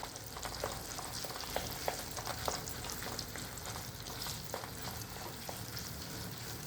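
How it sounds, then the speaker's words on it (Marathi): A thick almond paste sizzles gently in a pan over a low flame, a soft steady frying hiss broken by light scraping stirs, with no talking. "बारीक गॅस ठेवायचा आहे आणि परतून घ्यायचं आहे आपल्याला हे व्यवस्थित"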